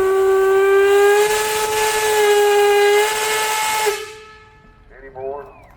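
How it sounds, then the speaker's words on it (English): A steam engine whistle at a steam and threshers festival blows one long, loud, steady blast for about four seconds before cutting off into hissing steam, followed by a few faint voices nearby. "Clayton, you got a whistle."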